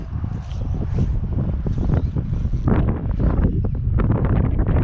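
Strong, gusty wind on a tough Florida fishing day for peacock bass, roaring and buffeting the microphone in a dense continuous rush with sharp bursts, no voices.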